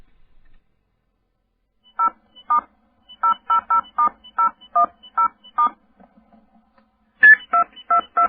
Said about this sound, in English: Hang up first before you dial again